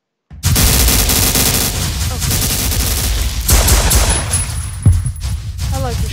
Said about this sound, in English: I like the shooting.